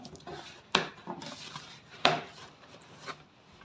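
A new cooking pot is handled, with two sharp metallic clanks and a softer knock among quiet rubbing and shuffling, close by and without talk.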